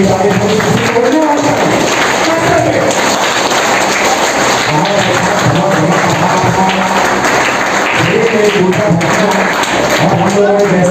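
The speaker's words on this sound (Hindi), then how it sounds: "अभी सब लोगों के लिए एक बार जोर से ताली बजाइए" A group at a yoga day session claps loudly and continuously, a dense, steady patter of many hands close by, with a voice speaking over the applause.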